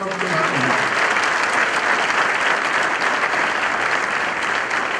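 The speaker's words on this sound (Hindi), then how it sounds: "जोरदार तालियों से" Loud, sustained applause from a church congregation at a Resurrection Day service, dense and steady clapping filling the whole stretch, with a voice briefly audible at the start.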